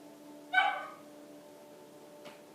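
A single short bark from a dog in the video game Paper Mario: Color Splash, crisp and clear over a quiet steady game tone, followed by a faint small click.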